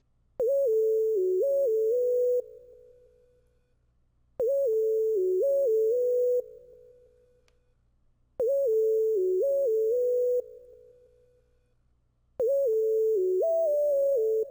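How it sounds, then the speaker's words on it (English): A synth counter lead in an ambient plugg beat plays a short sliding melodic phrase four times, each a two-second burst with bending notes and a soft tail, separated by near silence over a faint low pad. "Then guys, we have the last counter lead, which is going to sound like this."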